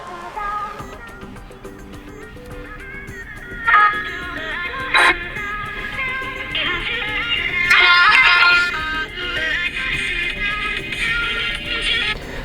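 Music plays from the single bottom speaker of a Realme C33 phone, small and thin-sounding at moderate volume, with brighter bursts of sound rising partway through and no talking.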